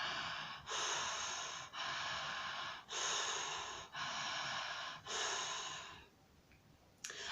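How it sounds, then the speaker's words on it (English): Connected circular breathing during a breathwork session: five long, loud rushing breaths in steady rhythm, each inhale flowing straight into the exhale with no pause, followed by a quieter stretch and a brief sharp sound at the end. "by doing so, we create a certain circular breathing,"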